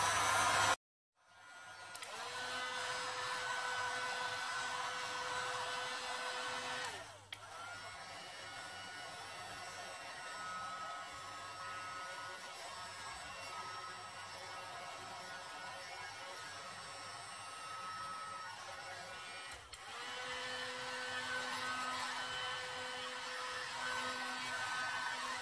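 A heat gun blows hot air over resin art as a steady, fairly quiet whooshing drone that runs for long stretches, stops briefly, then starts again.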